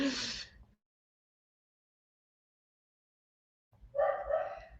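A nearby dog lets out a short bark, then a long silent gap, then another burst of barking at the end.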